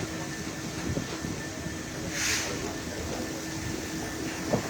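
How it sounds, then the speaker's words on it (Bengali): Heavy downpour on the platform at Rajshahi railway station, a dense continuous hiss of rain with a low rumble underneath and a brief swell of hissing in the middle. "এই মুহূর্তে মুষলধারে বৃষ্টি হচ্ছে।"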